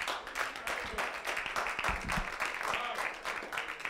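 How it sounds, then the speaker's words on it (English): A church congregation claps hands together in sustained, dense applause during a Christian sermon, with voices mixed in beneath the clapping. "Let's clap your hands for that."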